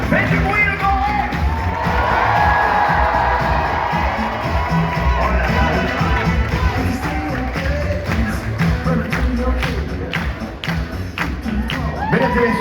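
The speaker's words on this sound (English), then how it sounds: "Faites du bruit, le grand Rex." The audience packed into Le Grand Rex, Paris, for the Ghostbusters: Frozen Empire premiere roars with sustained cheering and screaming, sharp claps and whoops cutting through the loud, dense crowd noise throughout.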